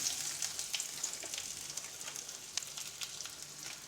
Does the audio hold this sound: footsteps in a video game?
no